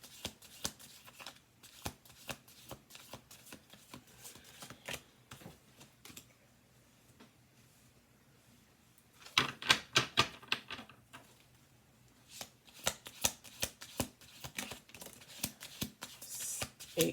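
Playing cards being shuffled on a table, several bursts of riffling and bridging with crisp fluttering snaps, the loudest burst in the middle, separated by quieter handling and tapping.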